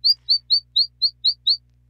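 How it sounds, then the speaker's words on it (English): Seven quick, evenly spaced bird chirps sound from a video game's outdoor ambience. They are crisp and isolated over a faint low hum, then they stop. "I can hear the chirps of the birds outside"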